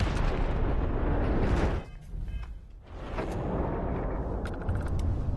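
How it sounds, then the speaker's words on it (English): Missiles blown up in a video game, heard as a loud, continuous rumbling blast that drops out briefly in the middle before a second sustained roar and a few crackling pops near the end. "Let me blow up your missiles."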